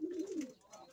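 Pet pigeons kept by a fancier give a single soft, low coo that rises and falls briefly, fairly quiet and close.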